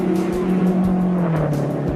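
A race car at the 1968 Indy 500 blasts past close by, a loud engine drone with pitch sliding down as it goes, under a steady roar of other cars.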